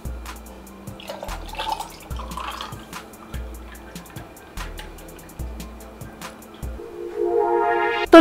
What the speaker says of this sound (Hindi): आइस क्यूब्स डाल देते हैं और जो मिक्सचर ब्लेंड किया था वो डाल देते हैं इसमें।